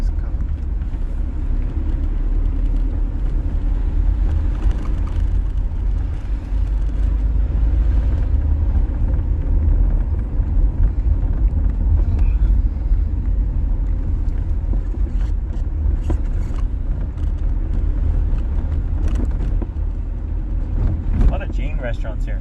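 Steady low engine rumble and road noise inside a moving car, continuous throughout with wind buffeting, while people talk over it.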